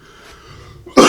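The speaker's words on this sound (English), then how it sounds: "Sorry about my cough" A cough from a person who is a little sick bursts out loud and close at the end, after a stretch of quiet room noise.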